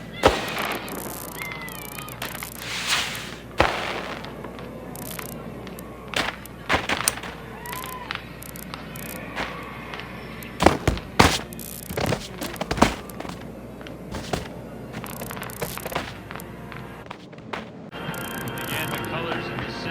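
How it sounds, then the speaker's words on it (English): Firework rockets exploding in a Melon Playground game recreation of the 1997 Zozobra burning, with sporadic sharp pops and crackles scattered over a steady, busy background throughout. "More rockets shooting into the air."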